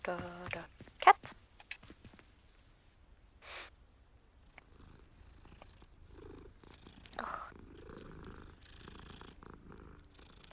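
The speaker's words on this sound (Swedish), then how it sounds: "Katt." A cat purrs softly in the video game Hogwarts Legacy, with a low, steady rumble under scattered game sounds, a few brief clicks and a short burst of speech.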